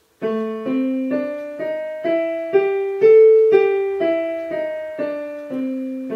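Piano notes played one after another in a steady rhythm, climbing up the blues scale (minor pentatonic with an added raised fourth) and then coming back down, clear and solo.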